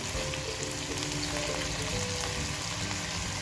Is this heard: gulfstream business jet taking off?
no